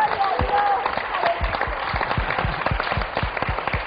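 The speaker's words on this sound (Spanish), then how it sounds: "Un aplauso fuerte para Jesús." Church congregation applauding for Jesus during a sermon, a dense run of rapid handclaps from many people, steady and fairly loud, with voices mixed in.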